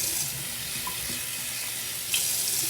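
Tap water runs steadily into a sink while a face is rinsed, making a continuous close hiss and splash with a brief louder gush near the end and no talking.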